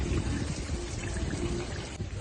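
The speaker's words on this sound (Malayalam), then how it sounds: "വെള്ളം ഒന്ന് മാറ്റാൻ വേണ്ടി വാൾവ് തുറന്നിട്ടൊക്കെയാണ്" Water pours steadily out through an opened valve beside a flooded paddy field during early rains, a continuous close gushing flow running the full length without pause.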